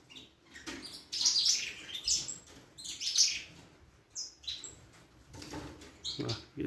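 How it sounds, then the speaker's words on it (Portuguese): A canary loose in a breeding room gives bright, sharp chirps in short bursts, with a faint rustle of movement between calls, fairly near and with no talk. "E é um canário que gosta muito de cantar solto, tá?"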